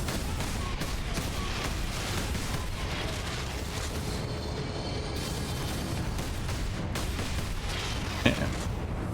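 Grenade blasts in the video game Warhammer 40,000: Space Marine, a dense, rumbling barrage of explosions and gunfire filling the scene continuously, with one sharper crack near the end.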